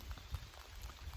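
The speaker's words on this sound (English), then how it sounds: "But it is raining now again." Rain falls outdoors at night, a soft, faint patter of drops with a low rumbling wash under it, steady through the short stretch with no one speaking.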